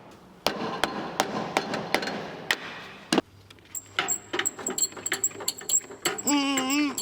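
A makeshift hammer-shaped object strikes a part on a 1977 Ford 4x4 truck, giving a series of sharp, loud metallic blows at an irregular rhythm, followed by clinking and rattling as the part comes loose.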